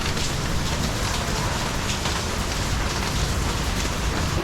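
Rain pours down steadily on a warm night in Vietnam, a loud, dense, unbroken hiss of drops hitting surfaces, with no voices.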